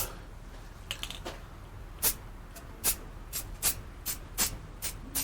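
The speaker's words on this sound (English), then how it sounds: "I'm going to spray it on. What I'm going to use is the flat white primer." Short bursts of hissing spray from a can of flat white primer, several quick sprays spaced irregularly over a quiet background, each sharp and airy.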